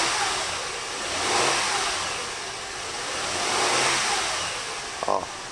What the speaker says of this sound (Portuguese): se dá uma leve aceleradinha lá, que o carro tá um pouco frio